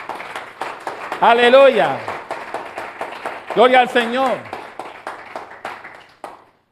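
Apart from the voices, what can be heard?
church congregation applause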